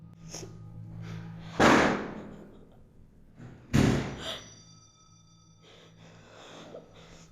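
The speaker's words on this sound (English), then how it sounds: "Listen to those knocks, they don't seem to be staged." Two loud, sharp knocks or thuds land a couple of seconds apart, standing out from a quiet indoor background with faint voice-like sounds between them.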